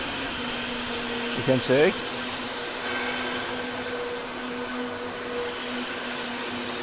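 A guardrail roll forming machine hums steadily through its nine-roller leveling and feeder section, a constant mechanical whine with a brief squeaky burst, while a person talks over it.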